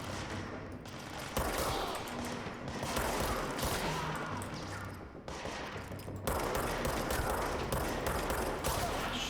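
Gunfire in a shooter video game, heard as steady dense volleys of shots over a continuous battle din, fairly faint, with brief dips between clusters of firing.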